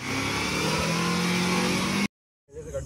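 A Renault Kiger RXZ turbo, stuck in mud, revs hard in one steady, close, loud drone. It cuts off abruptly to silence, then a faint muffled rumble and some background noise return.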